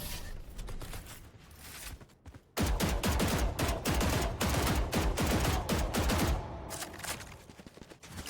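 Gunfire from the Valorant video game's Phantom rifle, dense rapid bursts of shots that grow louder and denser midway, then thin out toward the end.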